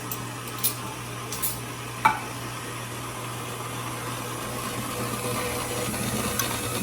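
Low, steady whirring hum of a stand mixer with a paddle running on low speed, mixing yeasted roll dough, with a few faint clicks and knocks early on and no talk.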